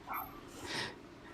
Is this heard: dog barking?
yes